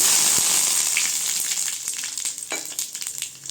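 Mustard seeds, dried red chilies and curry leaves crackle and sizzle in hot oil for a kothavarangai poriyal tempering, a loud steady hiss that eases slightly as scattered pops and a few stirring clicks follow, with no talk.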